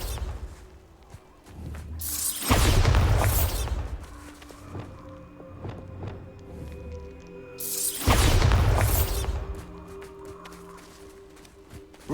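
Two Bombarda blasting spell explosions in the Hogwarts Legacy video game, each a loud booming burst with a whooshing rush lasting about a second, separated by quieter game ambience with faint footsteps and tonal hum.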